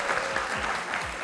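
A studio audience claps steadily for a segment winner on a television show, brief dense applause filling the room at even volume.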